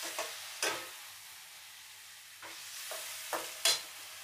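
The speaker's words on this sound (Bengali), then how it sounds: "কুমড়োটা দিয়ে হালকা হাত দিয়ে নাড়া একটুখানি নাড়া দিয়ে জল দিয়ে দেব।" A few light stirs of fried pumpkin in a pan for boal fish curry, gentle scraping taps at scattered intervals over a faint quiet sizzle.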